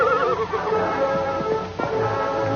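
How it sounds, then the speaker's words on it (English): A horse whinnies and neighs repeatedly in a furious fight with a huge buffalo in a small rocky glen, shrill cries rising over a dense, noisy background throughout. "the Lone Ranger and Tonto hear sounds of a furious battle"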